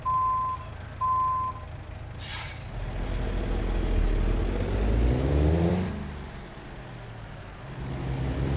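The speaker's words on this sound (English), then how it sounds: "Our reverse beeper went a beat behind, skipped a beat." Two short, steady electronic reverse beeps from a truck in American Truck Simulator, the second arriving after an uneven gap, followed by a low diesel rumble, a hiss of air and a rising engine note.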